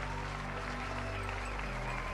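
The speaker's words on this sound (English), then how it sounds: "cheering for their happiness" Crowd cheering and applause fill a grand royal wedding in a fairy-tale kingdom, a dense, continuous wash of clapping and voices under steady background music, loud and unbroken.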